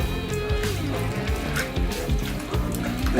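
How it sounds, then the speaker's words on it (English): Grape must being stirred by hand in a container, sloshing and gurgling of thick juice and crushed grapes in repeated close strokes, no talk. "Now I'm going to stir."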